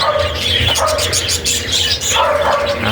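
Pet breeder's gray-wing white-face parakeet with a broken leg, chirping and chattering in short busy bursts close to the microphone, with other birds calling around it.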